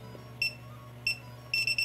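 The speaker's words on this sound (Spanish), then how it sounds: "vamos a escuchar es un bip corto" A metal biometric access-control keypad gives several short electronic beeps, two single ones followed by a quick cluster of three, close and clear over a low steady hum.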